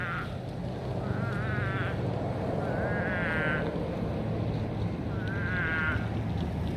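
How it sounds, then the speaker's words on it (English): Frogs croak in repeated trilling calls over a constant roar of traffic. The calls come in bursts of a second or so and sound moderately distant. "Those are frogs."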